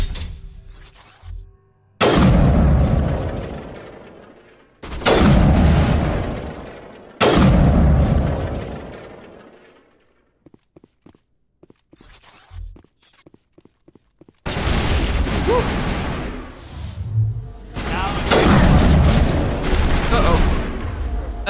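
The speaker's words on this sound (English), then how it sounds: "Let's use the sniper." Sniper rifle gunfire in Mass Effect: several loud, booming single shots spaced a few seconds apart, each with a long decaying tail, then a denser stretch of heavy firing near the end.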